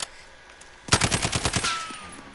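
A sudden burst of rapid automatic gunfire from Call of Duty Modern Warfare, about eight quick shots in a tight rhythm after a near-silent start, then a brief fading tail.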